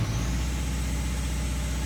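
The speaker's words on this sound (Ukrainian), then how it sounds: "Але коли 2000 обертів роблю" A Hyundai Santa Fe diesel engine with a misfire runs steadily at raised revs around 2000 rpm, a loud, continuous close-up drone with a rhythmic low pulsing and no pauses.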